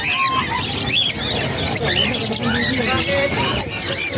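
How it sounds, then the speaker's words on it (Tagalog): Dense, continuous chirping and tweeting from many caged birds crowded together at the Bocaue pet market, loud and close, with overlapping calls throughout and busy market background. "ang dami nagsisiksikan yung mga ibon ni Boss Marvin."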